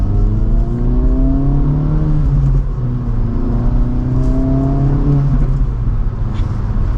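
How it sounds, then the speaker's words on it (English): A 2024 Acura Integra Type S pulls hard from inside the cabin, its engine note rising through the revs, dropping at a gear change, then climbing again, loud and steady with no talk. "And we'll do one last acceleration."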